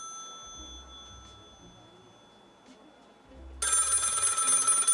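A telephone in a video game bursts into a loud, bright electronic ring near the end, following a stretch of quiet low ambient hum with faint tones.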